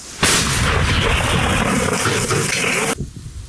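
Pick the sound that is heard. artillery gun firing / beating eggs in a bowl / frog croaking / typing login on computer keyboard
artillery gun firing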